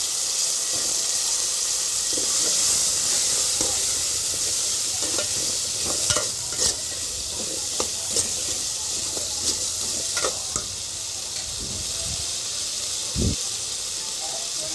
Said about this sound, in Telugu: ఆలు వేసుకొని అయితే కలుపుకుంటున్నానండి ఇప్పుడు.